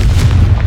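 Confringo blasting spell going off in the Hogwarts Legacy game, a loud, deep, rumbling explosive boom that fills the short moment close up.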